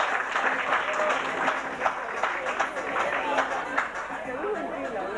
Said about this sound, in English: Round of applause to Martin